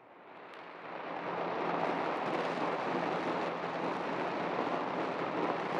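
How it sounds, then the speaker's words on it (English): Monsoon rain pours down in wartime Vietnam in 1966, a dense, steady hiss that swells in the first second and then holds, loud and unbroken, with no voices. "the other sounds of the monsoon rain pouring down"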